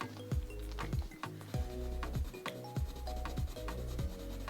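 Repeated short scratchy strokes of Derwent colored pencils swatched on paper, close and steady, with faint tones in the background.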